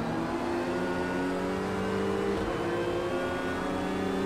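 A Porsche 911 GT3 R race car engine in the video game Project Cars 2 at the Nürburgring Nordschleife drones steadily at high revs, a continuous harmonic whine with slight pitch shifts, loud and close throughout.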